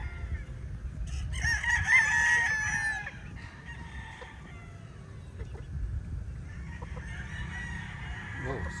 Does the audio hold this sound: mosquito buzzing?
no